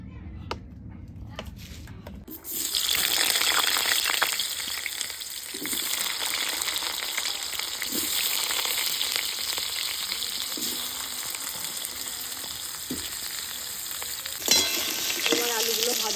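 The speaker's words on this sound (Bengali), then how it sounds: "এবার আলুগুলো ভাজা হয়ে গেছে, তুলে দিচ্ছি।" Potatoes fry in oil in a wok with a loud, continuous crackling sizzle that kicks in after a quieter opening and holds steady, with occasional stirring knocks and no talk.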